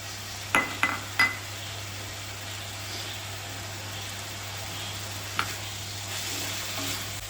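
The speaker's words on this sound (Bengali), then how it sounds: "এবার আমি ভাজা আলু আর বেগুনটা দিয়ে দিচ্ছি" Fried potato and eggplant tipped into softened greens for a Bengali shak chorchori, giving a few sharp clatters of utensil against pan at the start, then a steady soft sizzle with a later single scrape of stirring.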